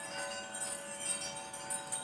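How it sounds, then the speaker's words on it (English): Wind chimes hanging outside an open door ring softly and continuously, faint metallic tones overlapping at a distance with no voices. "I don't know if you can hear my wind chimes."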